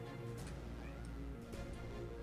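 A cat meows a few times in short, faint bursts, heard over a steady low background hum with no one talking.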